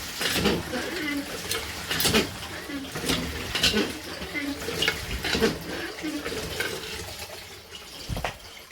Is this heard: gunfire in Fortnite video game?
no